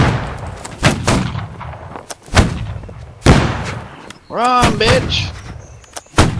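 Gunshots ring out in a Holdfast line battle, several sharp loud cracks spaced irregularly with a burst of rapid fire near the end, while a voice shouts over the volley.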